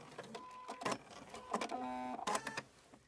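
A sewing machine stitching and backstitching a quilt seam, with several short bursts of mechanical whirring and needle chatter separated by brief pauses, close and fairly loud.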